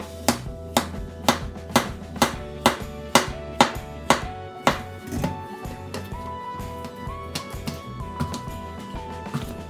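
A knife slicing eggplant and zucchini into 0.5 cm rounds on a cutting board, a steady rhythm of crisp, close chops roughly every half second that softens and thins out toward the end.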